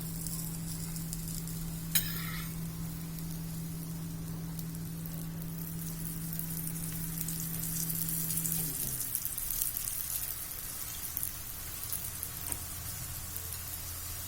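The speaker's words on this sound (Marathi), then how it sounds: "आता त्याला आपण भाजायला टाकूया." An aloo paratha stuffed with spiced potato roasts on a hot pan, giving a soft continuous sizzle while a steady hum runs underneath for most of the clip and then cuts out. A faint click comes early, and no one speaks.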